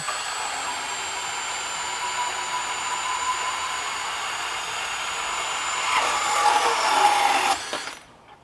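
DeWalt DCS377 compact 20V brushless band saw cutting 1.5-inch angle iron, a steady high whine and grinding hum that grows louder and rougher toward the end before stopping abruptly, close and without talk.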